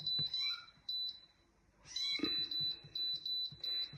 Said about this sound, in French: Un petit chat qui pleure, qui veut venir.